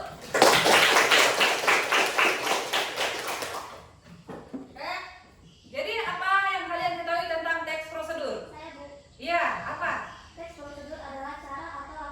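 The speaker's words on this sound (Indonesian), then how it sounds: "Tepuk tangan dulu." Students in a classroom clap together in a loud, busy burst lasting several seconds, which stops abruptly before children and a teacher start talking.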